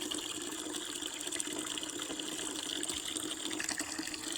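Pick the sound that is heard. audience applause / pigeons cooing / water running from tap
water running from tap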